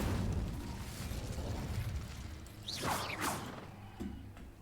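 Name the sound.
Incendio fire spell cast in the Hogwarts Legacy video game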